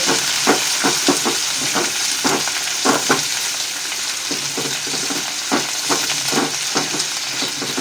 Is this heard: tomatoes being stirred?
yes